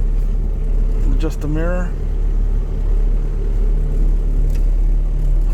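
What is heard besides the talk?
old Toyota car engine while driving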